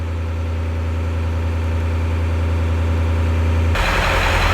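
A Ford E350 van engine runs at raised RPM during a scan tool self-test: a steady, droning mechanical hum that turns rougher and louder just before the end, with no talking.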